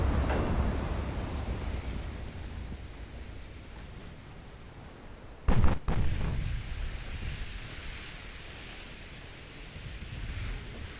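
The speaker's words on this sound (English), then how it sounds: "Another torpedo hit." A torpedo strikes an armored cruiser in the naval game Ultimate Admiral Dreadnoughts, a sharp boom bursting out mid-clip over a steady roar of wind and sea-like noise that carries on throughout.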